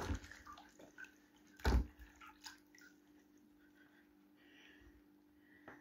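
An egg is rinsed in water while cooking, with soft splashes and a sharper slosh partway through, then quieter drips and small movements.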